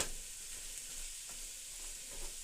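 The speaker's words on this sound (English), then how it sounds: "okay, so that's in the frying pan." Soft, steady sizzling of vegetables frying in butter in a pan, a quiet continuous crackle with occasional faint stirring scrapes and no voices.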